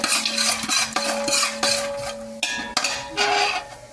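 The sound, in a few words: chana dal and urad dal being roasted in ghee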